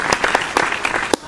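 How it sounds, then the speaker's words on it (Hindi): Audience applause on a comedy quiz show spoofing a Hindi game show, heard as a short burst of scattered, fairly close claps with no talk over it. "तालियां।"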